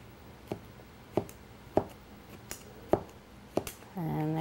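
A knife chops through pineapple on a cutting board in a steady series of about seven crisp, close knocks spaced roughly half a second apart, followed by a brief sustained tone at the end.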